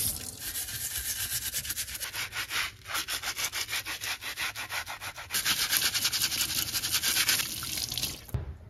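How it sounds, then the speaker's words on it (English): Scrub brush scrubbing dried spray paint off hands, a close, loud, rhythmic back-and-forth rubbing with quick regular strokes, a short pause partway, then harder, wetter scrubbing, no voices. "We're gonna add in the scrub brush"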